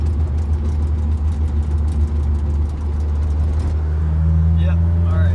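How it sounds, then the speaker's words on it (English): A car engine drones steadily from inside the cabin, with rattles and jolts over an uneven road; a low hum shifts near the end. "We got this ridiculously bumpy road."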